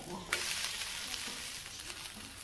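Dosa batter with ghee and pepper powder cooking on a hot griddle gives a bright, steady sizzle close by, with a sharp flare near the start and faint scraping touches, no voices.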